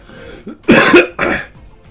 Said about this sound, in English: I never know if I'm hacking or coughing